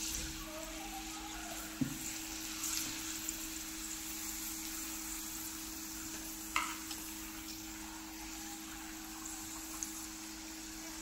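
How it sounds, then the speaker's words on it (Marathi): Papad fries in hot oil with a soft, steady sizzle, punctuated by a few sharp clicks and light stirring taps. No one speaks. "दोन्ही साइडून पापड तळून घ्यायचा"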